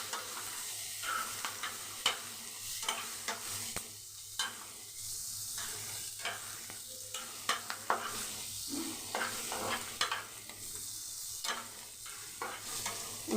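Masala chicken with capsicum and green chilli being stirred and fried over high flame, with a steady sizzle and repeated scraping stirs of a spatula in the pan throughout.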